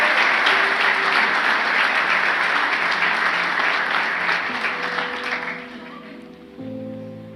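A church congregation at an Easter service applauds, loud and full for several seconds, then fades as a sustained organ or keyboard tone comes up near the end.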